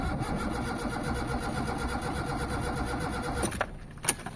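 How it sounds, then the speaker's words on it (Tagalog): Hard-starting engine being cranked, a continuous mechanical churning from the starter turning the motor over without catching, then a pause with a couple of sharp clicks near the end. "So isa pa. Start tayo ng engine."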